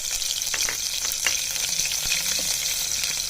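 Green chilies, garlic and nigella seeds frying in a pan, giving a loud, dense, continuous hiss, with a few quick scrapes of stirring on top, heard close with no talking.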